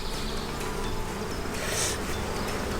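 Honey bees buzz steadily around newly hatching worker bees on a honeycomb frame, a dense, continuous close drone without pauses.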